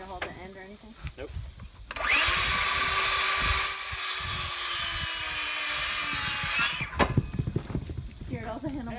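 A cordless power drill runs during a barn repair, a steady high whine of about five seconds with a brief pitch change midway, heard close and loud between bursts of nearby talk.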